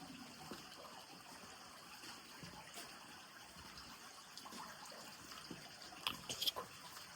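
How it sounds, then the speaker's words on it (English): Creek water flowing inside a Tasmanian cave, a faint steady trickling wash throughout with a few brighter splashy drips near the end. "That creek continues flowing into the river"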